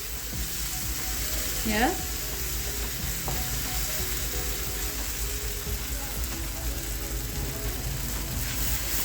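Mutton liver sizzles steadily in a hot wok, a constant crackling hiss close by, with a brief scrape and a single short spoken word.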